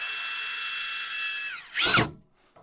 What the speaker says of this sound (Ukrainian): беремо шурупчик 90 по дереву, закручуємо